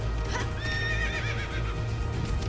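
A video game horse whinnies loudly over steady clip-clopping hooves and a constant low rumble, with no talking.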